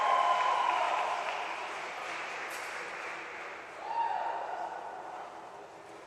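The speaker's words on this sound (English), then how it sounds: "let's give one more big round of applause for all the senior Bears" A crowd at a college swim meet's senior day applauds, a broad wash of clapping heard at a distance in a reverberant natatorium, fading then swelling slightly.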